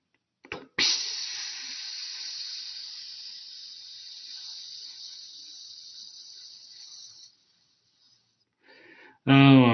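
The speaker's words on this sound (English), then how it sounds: "letting too much steam out" Steam hisses out of a robot in one long, loud, steady jet that slowly fades away, then a brief softer puff follows before a voice starts speaking at the end.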